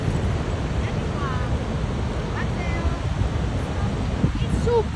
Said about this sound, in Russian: Вот так выглядит Ниагарский водопад.